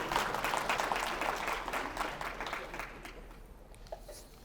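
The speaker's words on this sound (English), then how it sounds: "let's give them a nice round of applause" An audience at a mental health symposium applauds a panel, a full round of clapping that starts strong and gradually thins and fades, leaving a few scattered claps near the end.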